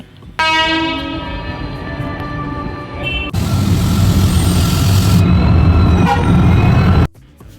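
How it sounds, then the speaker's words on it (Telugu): A loud horn sounds, then the heavy rumble and roar of a Hyderabad to Narasapur train pulling into the platform close by, fading out abruptly at the end. "ఇదే మన ట్రైన్ అయితే వచ్చేసింది."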